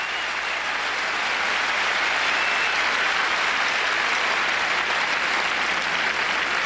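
The crowd at a 1989 Roland Garros tennis match applauds a point, a broad, steady wash of clapping from a large stadium audience, sustained and even with no voices over it.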